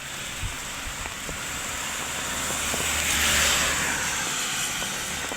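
Heavy rain pours steadily near Montesilio, a dense, continuous hiss with scattered sharp drips and a low vehicle rumble underneath, heard close and without talking.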